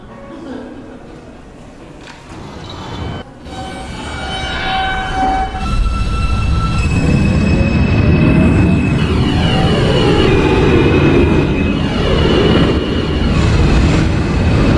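A Queens-bound E subway train in a Roblox game rolls in with a rising rumble and high metallic screeching tones, building to a loud sustained roar as it passes close, with announcement-like speech heard early on.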